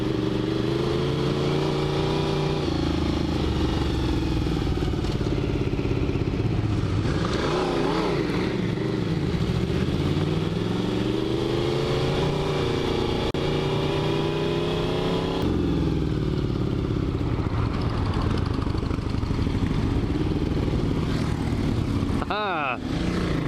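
A Despatch Tracker motorcycle pulls hard in second gear, its loud engine note rising and falling through sustained acceleration close by, with a brief sharp rev near the end.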